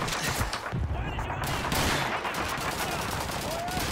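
Dense gunfire in the Call of Duty 2 video game: rapid, continuous rifle and machine-gun bursts with distant booms fill the scene at high loudness, with a player's voice talking over the battle.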